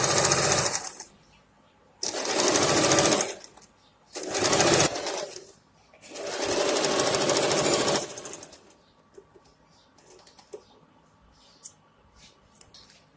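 A sewing machine runs in four loud bursts of steady stitching, sewing a belt fabric strip onto a pant waistband, with quiet pauses between runs and soft handling clicks afterward.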